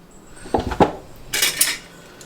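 A metal lid comes off a pot of dum-cooked beef nalli biryani with close clanks and scrapes of metal on metal, a short bright rattle following a moment later.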